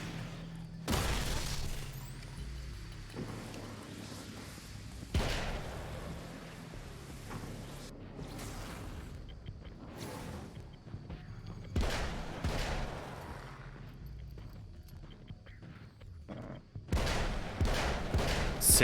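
Gunfire in the video game Alan Wake sounds in repeated sharp booming shots spaced a few seconds apart, loud and reverberant over a low ambient game backdrop, with no talking.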